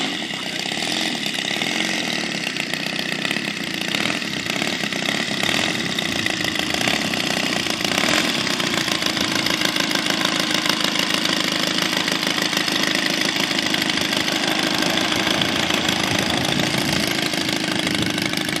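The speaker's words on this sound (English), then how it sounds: "I know the guys want to hear the engine, so I'm going to turn it up." A loud engine runs and revs continuously up close, a harsh rattling drone that swells and holds for the whole stretch, with no talking.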